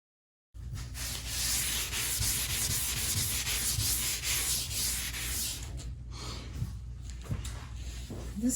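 A green Scotch-Brite pad buffs a shellac-coated wooden tabletop with steady, close, raspy back-and-forth rubbing strokes that pause briefly near the end.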